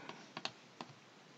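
Computer keyboard keys are pressed during drawing software work, giving four sharp, quiet clicks spaced unevenly over a near-silent background.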